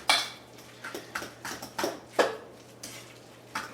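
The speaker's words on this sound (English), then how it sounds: "So I'm just going to mash all this up." Fork or masher working guacamole deviled egg filling in a bowl: a series of sharp, close clinks and scrapes against the bowl, about a dozen uneven strokes in quick succession, with no talking.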